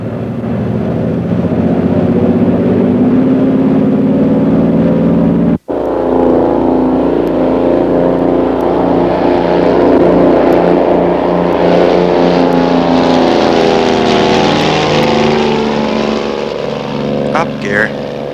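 A Twin Bonanza twin-engine airplane takes off from runway 25 left at Los Angeles, its engines a loud, steady roar with a brief dropout partway through. Voices are heard under the engine noise.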